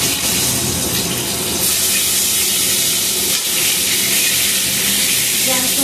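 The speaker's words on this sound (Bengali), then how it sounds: "এদিকে আমার মাছ ভাজা হচ্ছে, শোল মাছ" Snakehead fish frying in hot oil in a home kitchen pan, a loud, steady sizzle and hiss that runs unbroken throughout, with occasional stirring sounds.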